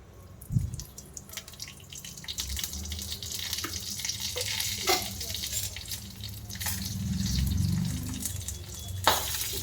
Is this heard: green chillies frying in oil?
yes